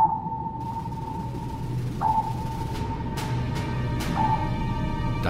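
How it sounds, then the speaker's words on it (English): Sonar pings from a vessel passing over a submerged U-480 submarine: a long steady electronic tone with several sharp pings and echoes, distant and muted over low background rumble. "The pings from the sonar were deafening."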